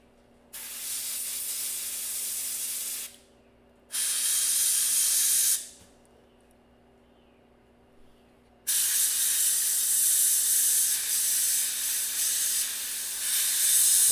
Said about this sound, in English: I find myself airbrushing